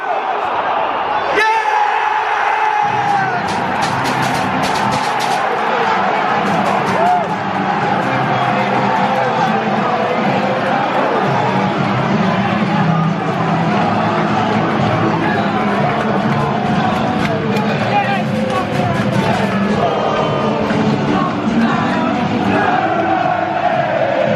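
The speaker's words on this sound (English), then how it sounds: "Finally, something to cheer about." Football crowd at a Millwall FC match rising into a sustained roar of cheers and shouts, loud and continuous throughout, with a sharp burst near the start and voices close by over the noise.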